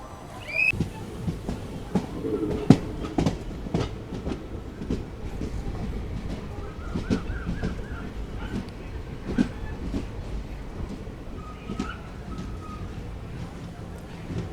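The Narasapur–SMVT Bengaluru weekly express runs on its rails, a steady low rumble with clicks and occasional thumps of the carriage, heard from inside the train, with faint voices in the background.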